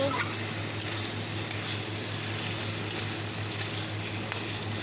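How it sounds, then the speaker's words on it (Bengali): Potatoes stir-frying in a pan for a home-cooked curry, making a steady, even sizzle and frying hiss that runs throughout at moderate volume, with a low hum underneath. "চলো আলুটা ভাজা হোক"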